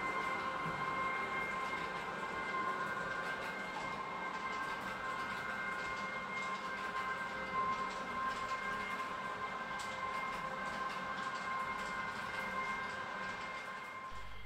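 Roco model train with a T5 pocket wagon carrying a Walter truck trailer, coupled directly behind the locomotive, runs steadily on its track: a continuous whirring motor hum with faint rail rumble throughout, close and unbroken.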